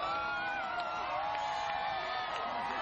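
A crowd cheers and whoops at an eclipse's totality, a steady, distant wash of many voices with scattered shouts rising above it.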